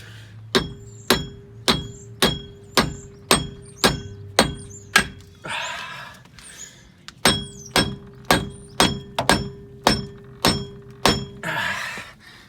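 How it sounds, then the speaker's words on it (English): A hammer strikes a rusted Jeep TJ axle U-joint in two rapid runs of sharp metallic whacks, about eight and seven blows, each ringing briefly, with a short pause of scraping between the runs. "giving it a few good whacks to break the rust off"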